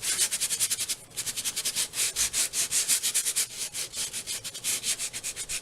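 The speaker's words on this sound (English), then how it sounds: "I'm going to go ahead and use my sanding tool. This is a Tim Holtz sanding tool." Tim Holtz sanding tool rubbed over paper in quick, steady back-and-forth strokes, close and fairly loud, with one brief pause early on and no talking.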